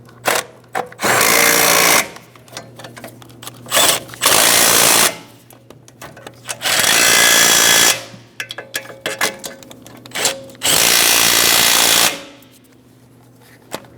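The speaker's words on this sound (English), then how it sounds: "Let's go ahead and torque them to that 41 foot-pounds." A power tool runs in bursts as it torques the wheel hub bolts on a 2008-2016 Chrysler Town & Country during a rear wheel bearing and hub replacement. Four loud whirring runs of about one to two seconds each are separated by quieter pauses with faint clicks.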